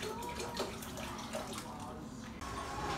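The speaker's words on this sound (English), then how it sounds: "Fill this pot about halfway full of spring water." Spring water runs steadily into a pot, filling it about halfway, a continuous splashing rush with a brief break near the end.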